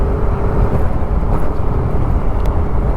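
A car driving on a rough, broken road near Baranagar metro station gives a steady, close low rumble of engine and tyre noise, with faint rattles and no speech.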